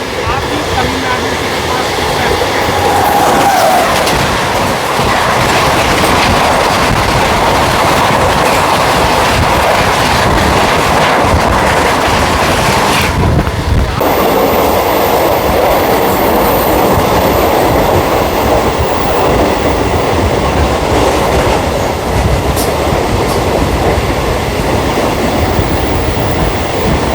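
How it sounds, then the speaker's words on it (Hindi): The 12622 New Delhi–MGR Chennai Central Tamil Nadu Express on Indian railways rushes past close by, a loud continuous roar of wheels and clattering wagons with a sharp shift partway through as the coaches sweep by. "सामने से आ रही है 12622 new Delhi MGR Chennai central Tamil Nadu express"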